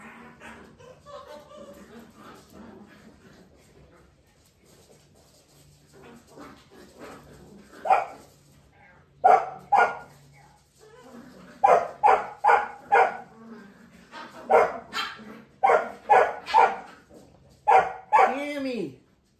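Eight-week-old puppies let out bursts of sharp barks and high yips, sparse at first and then coming in rapid clusters, close by, with a person talking faintly early on.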